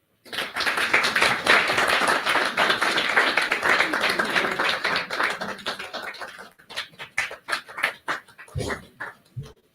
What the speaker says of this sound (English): Another round of applause for the Deputy Minister